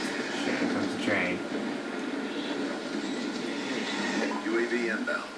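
Train rumbling past in the Black Ops II multiplayer video game, a sustained mechanical roll with squealing tones, mixed under game sounds and voices talking throughout.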